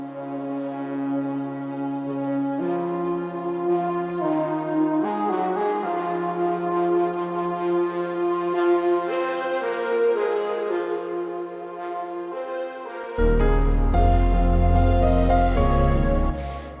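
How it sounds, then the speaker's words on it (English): Layered background synthesizers build a sci-fi atmosphere, sustained chords shifting slowly and steadily, with a deeper, fuller bass layer entering near the end; no voices. "So just the synths sound like this."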